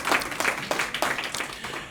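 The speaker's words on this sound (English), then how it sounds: "Let's give them a round of applause for that" Applause from the audience at a Filipino community association gathering in Red Deer, a moderate crowd clapping steadily for about two seconds with an uneven, patter-like rhythm.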